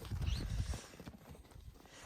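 A large horse, bigger than a Thai horse, walks with hooves clip-clopping, a heavy close cluster of steps at first, then lighter, fainter footfalls.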